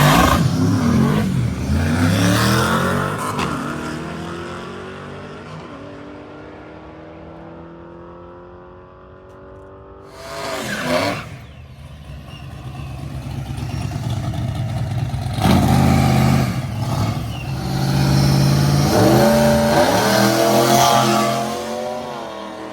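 A little Chevy II drag car at a drag strip roars loudly as it launches, its engine climbing through revs and shifts, then fading briefly before another loud surge of engine noise later on.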